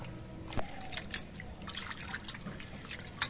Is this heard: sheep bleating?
no